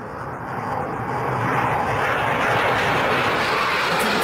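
A jet airplane sound effect rises into a loud, broad roar that swells over the first second and a half, then holds steady and close with no talk.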